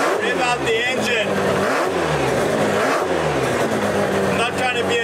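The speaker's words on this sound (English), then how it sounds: "They told me I've got to every now and then just rev out the engine." A hand-built 350 kW four-rotor Mazda RX-7 rotary engine revs repeatedly, rising and falling in several loud, close sweeps from a rough idle to higher pitch and back down.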